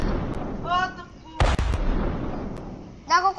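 Heavy cannon booms ring out in a burst around the middle of a Brookhaven game, with lighter pops and game sound effects scattered before and after.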